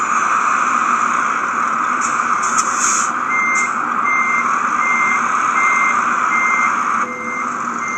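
A truck in Euro Truck Simulator 2 sounds its reversing alarm: a steady series of loud, evenly spaced beeps over a constant engine drone, with no voices.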